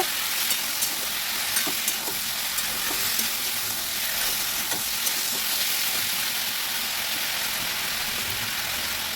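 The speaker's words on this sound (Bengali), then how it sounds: "অল্প করে জল দিয়ে আবার একটু সাঁতলে নেব" Watermelon-rind vegetables sautéing in a pan after a splash of water, a dense continuous sizzle close up with faint stirring scrapes, no talk.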